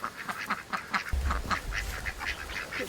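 Ducks in a duck forage pen give a run of nasal quacks in quick, uneven succession, moderately close, with a low rumble of background noise beneath.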